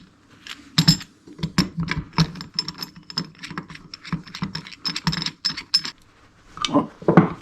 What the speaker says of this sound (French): je vais retirer les aiguilles et mettre mon petit outil que j'ai acheté pour l'extraire à la presse